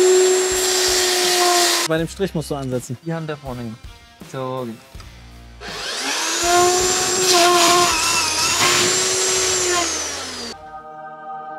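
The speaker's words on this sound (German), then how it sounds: "Schalten die Säge dann ein." A power saw cutting roofing material whines loudly, running and then cutting in a long sustained burst, with people talking briefly in between.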